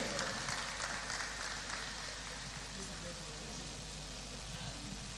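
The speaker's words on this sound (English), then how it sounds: "Please welcome him with a clap offering" Steady applause from a crowd at an awards ceremony, a dense even patter of clapping that holds without letup, heard from within the room.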